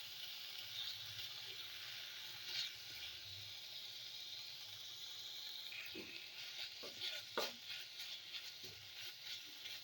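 A spice paste of ginger, green chilli and cumin powder sautés in a pan, a soft hiss and sizzle with scattered stirring scrapes growing busier toward the end, fairly quiet and without speech.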